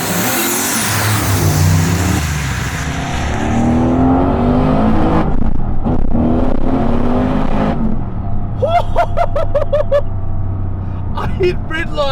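A 1000 HP turbocharged 6.6-litre LS stroker V8 in an HSV ClubSport R8 accelerating hard from second gear, a loud rising engine roar with turbo whoosh and sharp pops or shifts, heard up close from inside the car.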